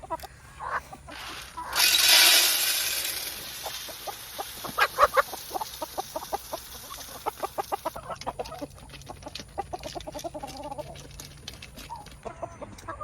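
Chickens cluck and squawk in a busy, irregular stream of short calls, fairly close, with a burst of louder noise early on and no talking.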